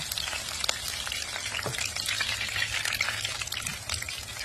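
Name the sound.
shrimp frying in a pan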